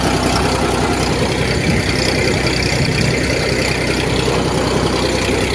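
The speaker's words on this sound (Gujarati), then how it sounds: "જોઈ લો, બાકી ટ્રેક્ટર હાલે છે." A tractor engine runs loud and steady during field sowing, a constant heavy rumble and clatter with no pauses.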